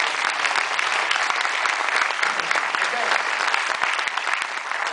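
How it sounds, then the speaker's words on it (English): A theater audience at a Noir City film festival screening in Seattle applauds Scott McQueen, the dense, steady clapping filling the room continuously and loudly throughout. "So a big round of applause,"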